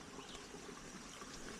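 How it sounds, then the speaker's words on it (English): A high-running creek at a carp fishing spot makes a steady, even rush of flowing water, soft and continuous with no voices. "Creek is very up today."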